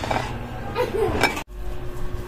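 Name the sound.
covering the pot of sticky rice with a lid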